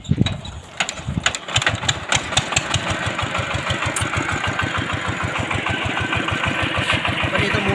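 A homemade forklift's small engine idles with a rapid, steady chugging putter, loud and close, after a few uneven sputters at the start.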